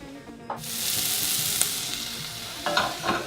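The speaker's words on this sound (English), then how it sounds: "So now the onions they're browning off quite well." Onions and chorizo fry in a pan for Moroccan chicken, a steady close sizzle with a few stirring scrapes and clinks, no talk.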